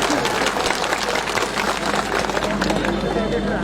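Crowd applause at a Congress campaign rally in Siliguri, a dense continuous wash of clapping from many hands, loud and sustained with crowd babble mixed in.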